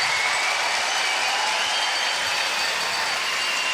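A crowd applauds at the 2014 World Women's Curling Championship opening draw between Russia and Canada, a steady, dense wash of clapping that holds evenly from start to finish with no voices standing out.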